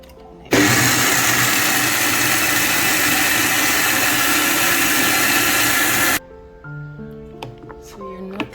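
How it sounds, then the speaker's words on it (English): An electric blender purees soaked beans with a little water for Accra fritters, a loud steady whir running close for about six seconds before cutting off, followed by quiet kitchen clatter. "Add a little bit of water, put it in my blender."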